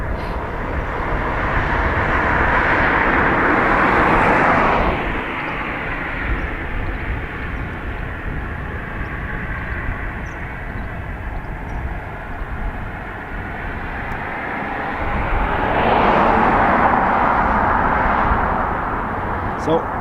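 Airliner jet engines roar during departures at Dublin Airport, a loud sustained rumble that swells, eases through the middle, then rises again, with a voice talking over it.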